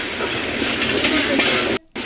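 A train rolls through Nizamabad railway station with a loud continuous rumble and clatter of wheels on rails, cut by a brief dropout near the end.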